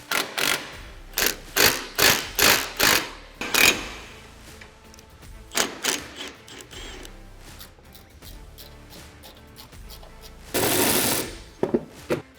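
A hand tool snugs M10 nuts onto bolts while a SuperATV Alpha cargo rack is fitted to a Polaris RZR Pro R. Close, sharp ratcheting clicks come in quick bursts, then a few scattered knocks and a short rasp.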